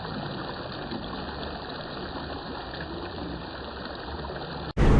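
Steady rushing stream water in the rocky jhiri trail leading to Napittachora waterfall in Mirsarai, a continuous close gush with no voices, cut by a sharp louder burst of water noise at the very end.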